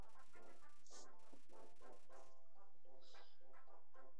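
Dog barks from the video game Undertale sound in a quick series of short yips over bright, busy game music and effects.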